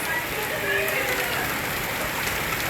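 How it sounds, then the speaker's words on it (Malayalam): Dense pattering of hailstones hitting a surface continuously, a bright, hissing clatter. "ഓ മൈ ഗോഡ്, ആലിപ്പഴം വീണ്."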